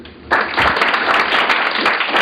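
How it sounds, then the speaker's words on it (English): An indoor audience at a presentation evening bursts into loud, sustained applause, many hands clapping densely together after a brief quiet start. "So a round of applause for"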